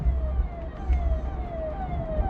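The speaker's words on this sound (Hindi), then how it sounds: "ये पुलिस की गाड़ी है, पुलिस का हॉर्न है" A police car siren wails in repeated falling sweeps at moderate distance over steady low road and traffic rumble, with no voices.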